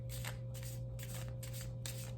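Oracle cards riffled and shuffled in several quick bursts, crisp and close, with a steady low hum underneath.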